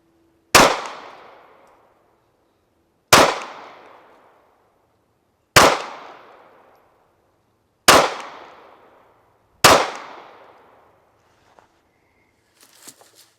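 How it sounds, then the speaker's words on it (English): A Masada Slim pistol fires five sharp, loud shots from 15 yards, spaced about two and a half seconds apart, each cracking and then ringing away outdoors, followed by faint clinks and rustles. "now I'm going to back off to a distance of 15 yards and fire a few shots from back there"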